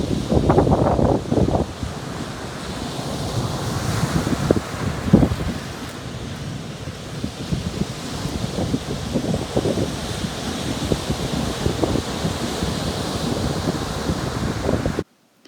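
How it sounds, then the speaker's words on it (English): Ocean waves breaking on a small beach near Newquay, Cornwall, a continuous roar of surf with repeated bursts of wash and heavy wind buffeting the microphone. "it was absolutely divine to just hang around on the beach and enjoy the waves"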